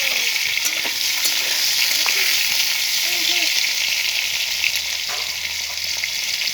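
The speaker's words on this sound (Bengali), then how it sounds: "এমনি সাদা তেলে পটলটা ভেজে নেব" Pointed gourd frying in white oil, a loud, steady, close sizzle throughout with occasional faint clicks of stirring.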